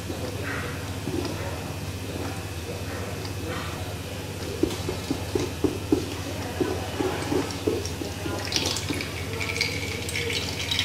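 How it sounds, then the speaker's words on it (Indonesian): Soy milk draining through filter cloth while the soybean pulp is pressed, with a faint watery trickle, soft squelches and light taps over a steady hum, and a voice speaking at times. "Oke, kita tekan-tekan supaya airnya ke bawah."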